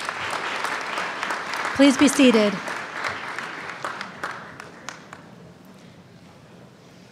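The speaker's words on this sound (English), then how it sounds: "Isn't it wonderful to applaud a prayer?" An audience at a convocation applauds after a prayer, the clapping loud at first and then trailing into scattered claps, as a voice speaks briefly over it.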